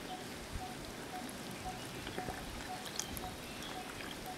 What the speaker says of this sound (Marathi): आता आपल्याला ह्याच्यात 2 ते 3 चमचे पाणी घालायचं आहे